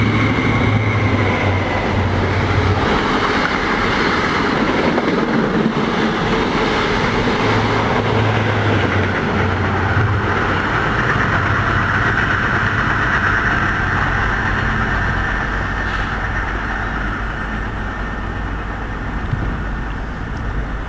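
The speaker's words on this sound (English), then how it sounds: "Got a HST wrong line, crossing over from the slow line to the fast." HST passenger train running on the wrong line and crossing over from the slow line to the fast line at Tilehurst, a steady, loud roar of engines and wheels holding throughout without fading.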